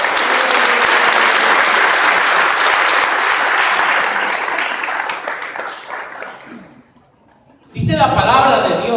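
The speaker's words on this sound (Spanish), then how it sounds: "Denle fuerte el aplauso al Señor" A church congregation gives loud, dense applause that holds steady for several seconds, then thins and fades to near silence before a voice begins speaking.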